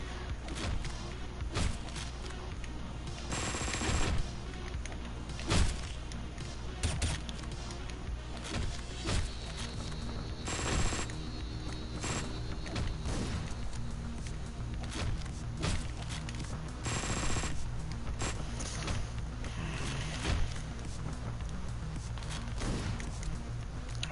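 Gunfire from a shooter video game, the player blind firing, crackles through repeated bursts of sharp shots and heavy thuds over a constant dense background that lasts throughout.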